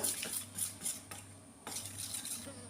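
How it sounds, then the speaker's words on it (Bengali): Wheat flour batter for jalebi being stirred with a spoon of sour curd, the spoon scraping and clinking against a bowl in quick, irregular strokes, close and alone. "জিলিপি মানে একটু টক ভাব সেজন্য আমি এক চামচ টক দই দিয়ে মিশিয়ে নেব"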